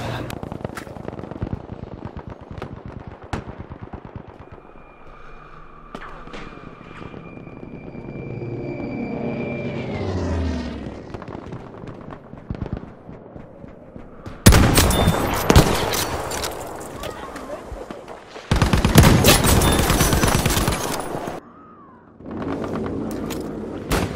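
Machine gun fire from a war video game comes in heavy, loud bursts of rapid shots, with quieter shots, a passing whine and other game sounds between them. No one speaks.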